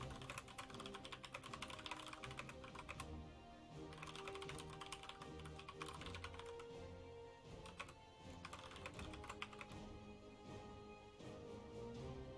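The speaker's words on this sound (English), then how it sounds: "I'm going to stop typing my message here" Computer keyboard keys being typed on in a steady run of quick, soft clicks at close range, continuing without pause and at a low level.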